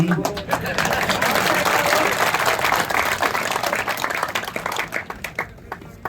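Crowd at a political gathering clapping together in a loud, dense burst that thins into scattered claps, with voices talking over it.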